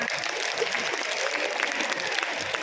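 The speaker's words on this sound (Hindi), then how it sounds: "दोनों हाथों से अपने खुद के लिए जोरदार तालियां बजाएं।" Schoolchildren clap at a Republic Day celebration in an Indian school, producing dense, steady applause throughout that stays loud and close, with faint crowd noise mixed in.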